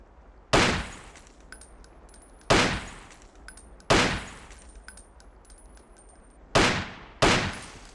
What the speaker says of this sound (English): Switch to the pistol and practice hitting the short-range targets.